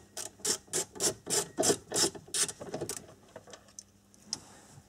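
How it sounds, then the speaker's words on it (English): Ratchet clicking while backing out the lower bolts of an Audi A4 glove box, a steady run of about ten rasping strokes that slows and fades toward the end, close and fairly quiet. "Okay, so I've just removed both of the lower bolts."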